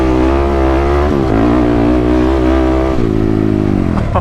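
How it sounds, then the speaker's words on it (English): A TRX dirt bike engine fitted with a fresh exhaust idles and revs close up, a loud, steady buzzing drone with pitch dips and slight rises, running alone with no talk. "just turned the key, hit the starter, started right up. This engine is just so dialed in right now."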